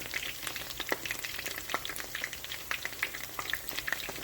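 Battered chicken wings fry in hot oil, giving a steady, moderately loud crackling sizzle with scattered sharp pops throughout and no talking.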